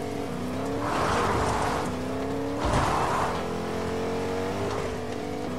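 Car driving in Fortnite, a steady engine drone with two louder revving surges as it accelerates, heard close and alone.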